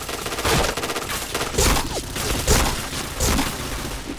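Loud, rapid bursts of gunfire in a shooter video game, several overlapping volleys packed tightly one after another over a few seconds.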